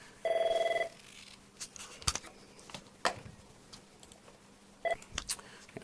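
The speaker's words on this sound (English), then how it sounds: "Sorry about that phone ringing." A telephone rings once in a short electronic burst in a quiet room, then soft clicks and taps follow, with a brief second chirp near the end.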